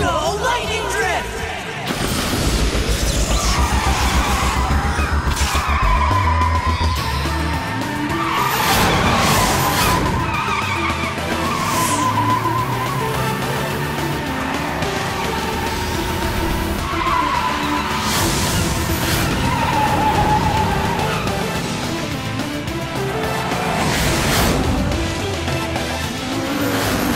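Cartoon car drifting in a race, its tires screeching and skidding in long loud sweeps over a steady engine roar, with voices talking throughout.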